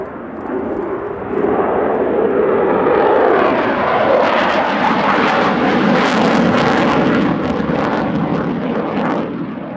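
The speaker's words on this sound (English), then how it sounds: "the aircraft is probably accelerating from 180 knots in full reheat, fighting the effects of gravity." Belgian F-16 fighter jet at an air show in full reheat, accelerating: a loud, sustained roar with crackling afterburner texture that swells after the first second and holds steady throughout, no talk.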